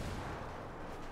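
A frag grenade going off in Ghost Recon Wildlands: a brief, heavy, low boom that fills the short moment loudly with a rumbling body and no talk over it.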